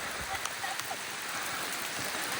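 Heavy rain pouring steadily during a Sunday motorbike ride in Coorg, a dense continuous hiss with a few faint voices and brief knocks mixed in.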